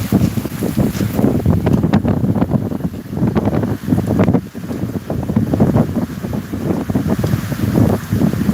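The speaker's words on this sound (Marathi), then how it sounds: "बघा पाऊस बघा पाऊस बघा मित्रांनो" Heavy rain driven by wind in a rural village, a loud continuous roar with gusty buffeting against the microphone, steady throughout without pauses.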